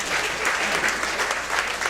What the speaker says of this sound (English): Go ahead. Applaud yourselves.